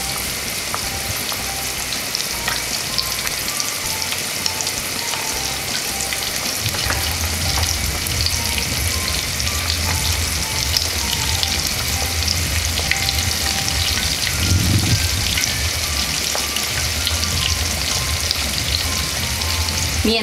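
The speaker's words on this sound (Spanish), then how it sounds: "Mientras nuestro pollo frita" Small chicken pieces fry in hot oil, producing a dense, constant crackling sizzle for the whole stretch, with a low rumbling undertone and occasional louder spits, close by and with no speech.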